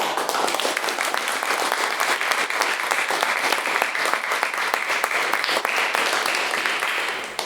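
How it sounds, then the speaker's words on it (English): Sustained applause from a debate audience after a motion on artificial intelligence is carried, thick even clapping from a large crowd that continues steadily and starts to taper at the very end. "Can I just request one extra round of applause"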